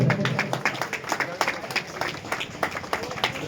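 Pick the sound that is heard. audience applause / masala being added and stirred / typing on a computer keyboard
audience applause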